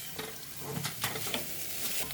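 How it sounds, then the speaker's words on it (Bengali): Grated carrots frying in ghee for carrot halwa, stirred in a pan with cardamom nearby: a steady close sizzle with scraping stir strokes and soft crackles throughout the short stretch. "ঘিয়ে ভাজাটা মোটামুটি শেষের দিকে।"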